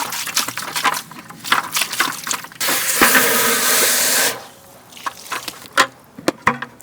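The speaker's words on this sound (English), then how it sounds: "Go give this a quick little rinse just to kind of clean it up a little bit" Running water rinsing out a soil container, a steady close splashing hiss lasting over a second amid handling clatter and scattered knocks.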